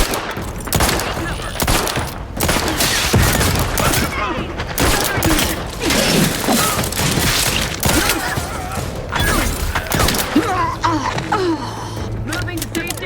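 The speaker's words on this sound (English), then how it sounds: "Explosion imminent!" Combat in the Outer Worlds 2 video game, with a dense, continuous clatter of gunfire and blasts close by, lasting throughout; voices speak over the fighting.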